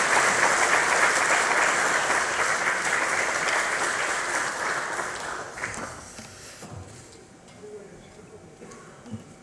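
At a Democratic Party workshop, the audience gives loud sustained applause to the party leader that tapers off after several seconds into room murmur and a few last claps.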